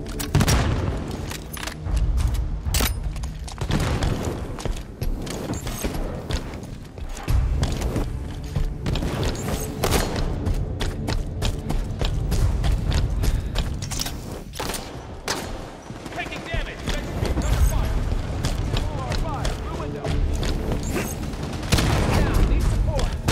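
Dense, continuous gunfire and explosions fill a Halo 5: Guardians multiplayer match, with rapid bursts and booms layered throughout and announcer-style voice lines under the din.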